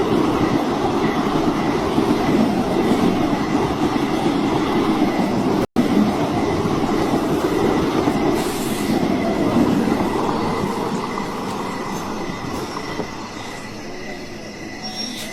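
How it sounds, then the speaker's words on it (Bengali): A train pulls into a platform with a loud, continuous rolling rumble and wheel noise, then gradually eases off and quietens toward the end as it comes to a stop. "ট্রেন এসে থামে এবং আমার প্যাসেঞ্জার ট্রেন থেকে নেমে প্ল্যাটফর্ম থেকে বাইরে বেরিয়ে আসে।"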